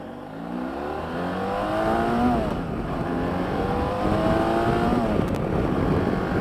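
A 2017 BMW F800GSA motorcycle engine revs up through repeated rising gear pulls on an open road, loud and close, with steady road and wind roar underneath.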